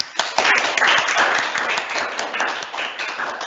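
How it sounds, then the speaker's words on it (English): An audience at a university valedictory lecture breaks into applause, a dense, even patter of many hands clapping close together for a few seconds. "I think a round of applause would be in order"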